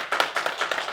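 Members of a church congregation at a children's Sunday service clap their hands, a short burst of light, quick applause from a modest group, close and fairly soft.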